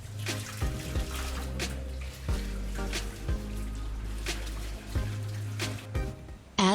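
Water drained off a large batch of washed green lentils, a continuous splashing pour close by with occasional clunks as the pot shifts, running for several seconds before stopping.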